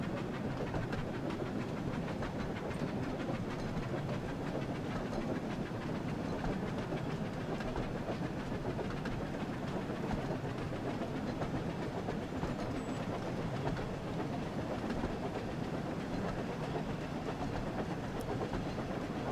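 Percy the small green tank engine rolls along rails in a Thomas & Friends video game, a dense, constant rumble of wheels and engine, steady and loud throughout with no pauses.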